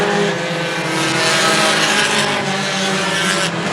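Pure stock race cars at Star Speedway roar around the track in a feature race, a dense and loud continuous engine drone with several cars overlapping steadily and no talking.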